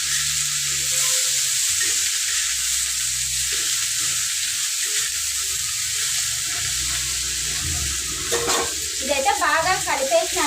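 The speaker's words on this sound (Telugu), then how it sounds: "ఒక 2 నిమిషాలు అట్లా వేగాలి నూనెలోనే." Mint chutney sizzles and fries in oil while being stirred in a pan, a steady loud hiss with scraping stir sounds, and a brief clatter near the end.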